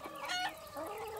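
Chickens on a farm in Corsica, kept among crops, cluck and squawk in a close, busy burst, with a short crow-like call rising briefly in the middle, all without any talk.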